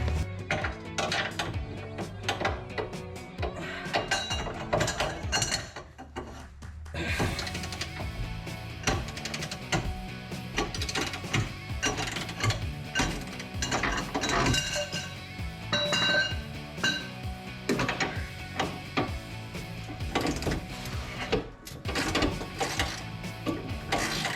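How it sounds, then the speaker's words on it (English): Ratchet and breaker bar loosening bolts on a Jeep Gladiator JT front bumper, a busy run of clicking pawl ratchets, metallic clinks and clanks of tools against steel, steady and close throughout. "we're gonna have to use the breaker bar again"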